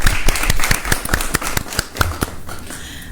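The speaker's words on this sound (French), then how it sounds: "On applaudit pour ça." Audience at a midday live broadcast claps, scattered individual claps ringing out sharply and unevenly, some loud and close, thinning toward the end.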